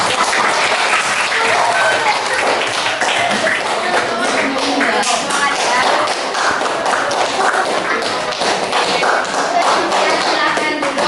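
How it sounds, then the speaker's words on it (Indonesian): Loud, sustained clapping from a classroom audience rewarding a winning student group, a dense crackle of many hands that stays strong and unbroken throughout, with faint voices mixed in. "Berikan tepuk tangan yang meriah."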